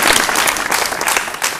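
Students in the audience of a quiz competition clap loudly and continuously, a dense burst of many hands that carries on without pause.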